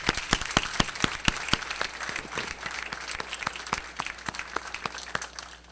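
Applause from a press conference audience, a burst of close, crisp claps that starts strong and thins out over a few seconds.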